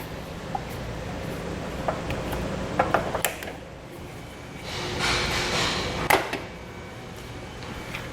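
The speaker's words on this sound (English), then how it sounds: "I'm just using a pair of tin snips to cut it" Tin snips cutting through the plastic air dam of a 2021 Buick Encore, a few sharp crunching snips and clicks standing out over a quiet background.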